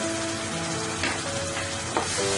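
Garlic paste and spices fry in a pan with a dense, close sizzle, a brief scrape of stirring breaking through twice over the constant hiss.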